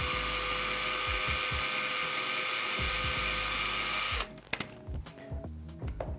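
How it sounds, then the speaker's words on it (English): A steady high-pitched drill whines continuously for about four seconds, then stops, followed by a few clicks and light mechanical knocks. "drill me a hole."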